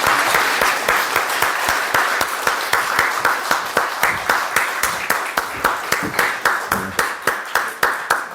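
A church congregation applauding to welcome a speaker, many hands clapping together in a loud, sustained burst that keeps a rhythmic pulse and stays close and even throughout.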